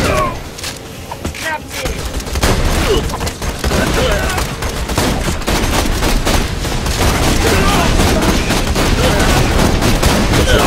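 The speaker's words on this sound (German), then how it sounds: "Schieß ja mega langsam, die Waffe." Gunfire from a slow-firing weapon in the Borderlands 2 video game: a dense, loud stream of shots and booming blasts with steady combat noise throughout.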